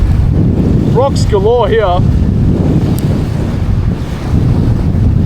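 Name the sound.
wind at rocky river shore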